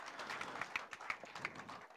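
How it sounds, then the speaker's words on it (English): Audience applause at a fishing tournament weigh-in, a faint, steady patter of many hands clapping from a crowd at a distance. "give him a round of applause"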